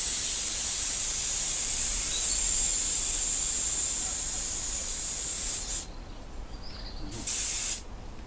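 Spray gun hissing as it coats a model jet, a steady close broadband spray running continuously, then cutting off in short breaks near the end with brief bursts between.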